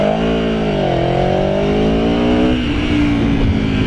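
An Aprilia Tuono V4 1100 RR motorcycle's V4 engine howls loud and close, revs rising and falling through a gear change in a continuous, onboard roar.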